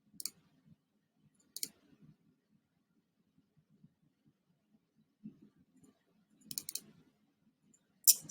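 A few sharp, isolated computer mouse clicks sound while a folder is selected in Photoshop. They are spaced several seconds apart against near silence, with faint low handling noise in between.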